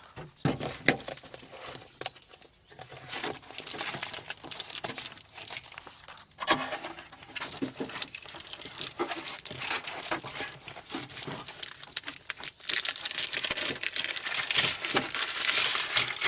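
Sound deadening mat being peeled from its backing and pressed onto a car panel, giving continuous close crinkling, tearing and rustling with brief pauses and no talk.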